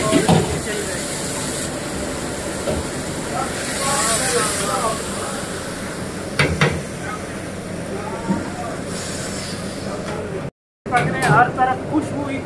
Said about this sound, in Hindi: और ये अभी गोश्त फ्राई हो रहा है